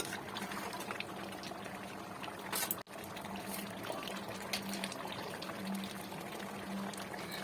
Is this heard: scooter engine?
no